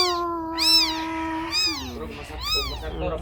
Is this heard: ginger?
no